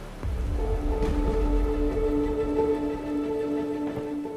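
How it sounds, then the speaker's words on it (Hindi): Steady rain falling at night, a dense hiss of drops on surfaces with low rumble underneath and faint tonal hum, continuous and fairly close throughout. "बारिश हो रही है ना"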